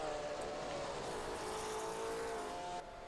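A McLaren M2B race car engine in the GPL racing sim at Adelaide: a steady, sustained high-pitched roar holding near constant pitch along a straight, loud and close, easing slightly at the very end.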